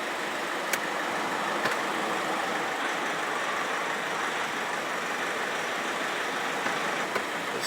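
A Nissan engine with an RE5R05A automatic transmission idles with a steady, even hum while the gear selector is moved through the ranges. The noise holds constant throughout, with a few faint clicks.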